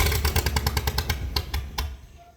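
A 302 V8 engine-driven air compressor cranks and sputters, its rapid uneven chuffs slowing to a few loud pops before dying away, close and alone.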